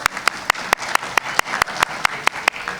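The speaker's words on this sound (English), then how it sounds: "it's all right, you can applause" Sparse, evenly spaced claps at a detention academy graduation ceremony, a few hands clapping in a regular rhythm over a quiet room.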